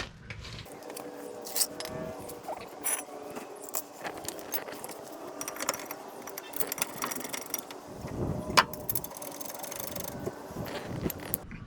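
A ratchet clicks in quick, uneven bursts while the rear brake caliper mount on a 2007 Scion tC is tightened, with metallic clinks and light handling noise in between.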